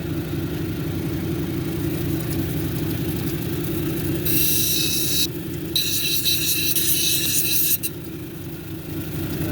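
A cabochon grinding machine runs a 280 grit wheel against a wonderstone cabochon, giving a steady, close whirring hum with bursts of brighter, harsher scraping midway through.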